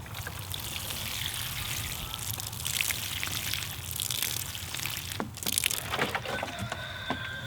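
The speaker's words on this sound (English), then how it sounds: "But you can go ahead and water it in." Water poured onto soil around a newly planted chayote (mirliton) vine, a steady trickling splash with a few crackling, woody handling sounds near the end, close and fairly quiet with no talk.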